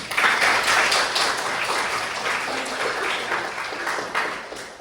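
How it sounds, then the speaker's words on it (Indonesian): A classroom of students bursts into applause during a Hindu religious education lesson. The clapping is brisk and fairly close, swelling at the start and then easing into a lighter patter. "Tepuk tangan untuk Dewi."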